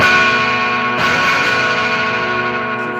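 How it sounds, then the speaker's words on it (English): Two bright, ringing electric guitar chords, a 9th chord rooted on the sixth string, the second struck about a second in and left to sustain and slowly fade. "It's actually a 9th chord"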